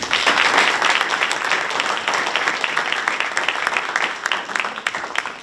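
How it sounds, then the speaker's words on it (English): A crowd applauds steadily, dense clapping that starts strong and slowly thins out, with a murmur of voices beneath. "please give them a round of applause"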